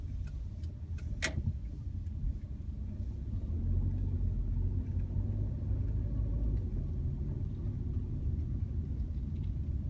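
Steady low road rumble heard from inside a car driving through the Takanini area, with a few faint ticks and clicks in the cabin early on and no talking.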